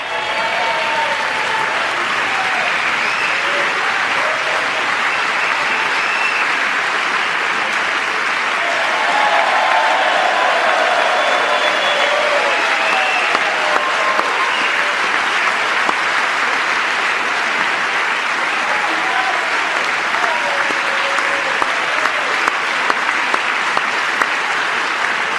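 Sustained applause from an audience in a congressional gallery, dense and steady for the full stretch with a swell of clapping and cheering in the middle, no talk over it.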